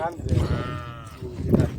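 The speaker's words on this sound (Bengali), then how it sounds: "এই যে বন্ধুরা ছাগলগুলি খাবার খাচ্ছে" Goats bleat on a Saudi farm as they eat, with a few wavering calls near and fairly loud and voices around them.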